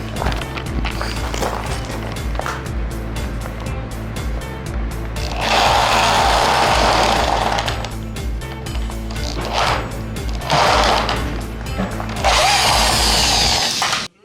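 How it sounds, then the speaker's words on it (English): A power drill whirs steadily nearby, surging louder in several bursts as it bites in, with no talking. "Did I hear a drill?"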